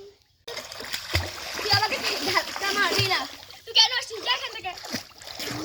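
Children swimming in village water make repeated splashes and sloshing strokes, close and lively, while children's voices and chatter carry through the splashing.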